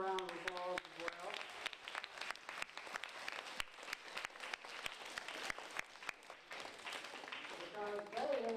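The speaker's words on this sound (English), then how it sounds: "Give them a round of applause as well." A room full of people applauds steadily for several seconds, dense and fairly even clapping, with a speaker's voice briefly heard at the beginning and end.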